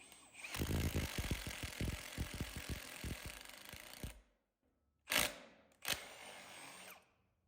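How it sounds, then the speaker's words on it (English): Drilling with a 1-inch bit about three-quarters of the way through for a countersunk PEX stub-out fitting: a steady buzzing drill run of about four seconds, then two short, loud bursts after a pause. "So we're going to go about 3/4 of the way through this with the 1 inch bit."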